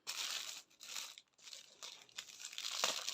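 A paint-by-numbers canvas being unwrapped, with close, faint crinkling and tearing of plastic packaging in irregular bursts separated by brief pauses, growing busier toward the end.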